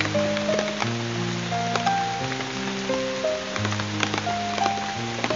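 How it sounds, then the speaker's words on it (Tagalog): Steady rain patters on surfaces outdoors, a constant soft hiss of drops lasting throughout with no voices over it. "Medyo humina na yung ulan."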